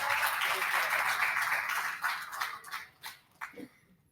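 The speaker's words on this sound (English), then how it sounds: "Please give applause to her." A lecture audience at an academic water-research event applauds a Wageningen University speaker: two seconds of dense, steady applause that thins into scattered claps and fades under a voice.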